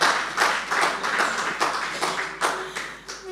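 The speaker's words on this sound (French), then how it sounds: "Et vous pouvez vous applaudir." Steady applause from a church congregation, a dense wash of clapping with rhythmic pulses, moderately loud and continuous throughout.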